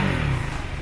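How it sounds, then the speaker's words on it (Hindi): A 2024 KTM 390 Duke motorcycle engine is revved from idle, a loud, steady low growl that stays constant across the short clip with no voices. "अभी थोड़ा बहुत रेव करते हैं और सुनते हैं इसका आवाज़।"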